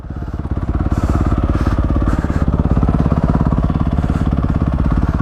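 A Grom motorcycle engine throbs loudly and close with a steady, fast pulsing beat while being ridden, holding a fairly constant pace throughout.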